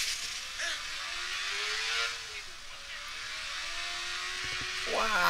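In the Watch Dogs video game, a motorcycle engine hums and rises in pitch as it revs and accelerates, steady and fairly loud, with a sharper rev burst at the end.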